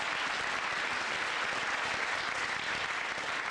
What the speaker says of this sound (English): give you a nice round of applause here. Give a nice round of applause.